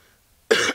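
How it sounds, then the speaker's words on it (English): A single sharp cough bursts out after near silence, loud and close, lasting about a quarter second before cutting off. "I just need to cough."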